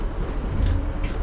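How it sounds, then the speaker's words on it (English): Steady low rumble of a train at Cardiff Queen Street station, a continuous close rolling drone with faint hiss and no clear clicks, heard alone without talk. "we're about to get off the train here at Cardiff Queen Street from just after leaving Cardiff Bay"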